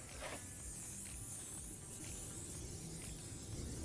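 A steady close hiss of tire gloss sprayed from a bottle onto a tire, running continuously with faint pulses.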